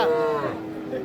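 A single cow moos at a cattle market where young bulls and heifer calves are being sold, one long drawn-out call that fades over about a second, close and fairly loud.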